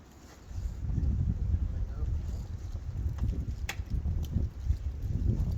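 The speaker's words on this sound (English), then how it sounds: "Kind of windy today" Gusty wind buffets the microphone with a low, rumbling roar that rises and falls, with a few faint clicks on top.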